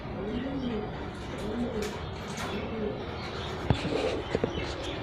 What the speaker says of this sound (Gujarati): કબૂતરા બેઠા હશે જો.